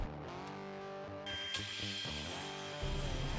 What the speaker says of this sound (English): I then take both the boards that I just cut over to the table saw